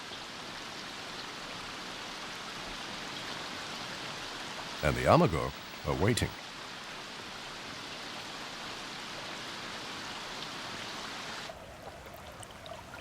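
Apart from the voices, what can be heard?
rain falling on water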